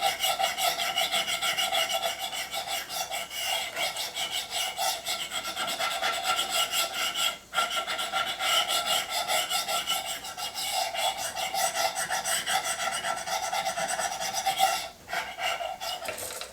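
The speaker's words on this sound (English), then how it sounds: "because I'm scraping off the wax, basically" A knife blade scrapes wax off a milk-painted wooden washstand in long, continuous rasping strokes, close and steady, with two brief breaks where the blade lifts away.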